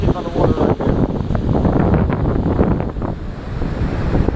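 Ocean surf and gusting coastal wind ahead of Hurricane Matthew roar steadily and close, with waves washing in and wind buffeting the microphone.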